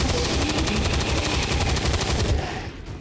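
Sustained rapid automatic gunfire in XCOM 2, a loud, continuous burst of closely spaced shots that carries on for several seconds before tapering off slightly at the end.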